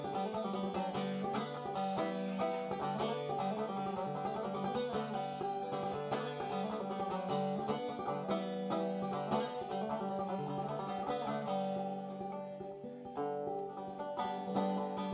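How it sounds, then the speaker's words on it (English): Banjo playing a lively folk tune about rye whiskey, a steady picked melody with dense rolling notes throughout, loud and close with no voices. "When you play the banjo, you're expected to play at least one song about whiskey."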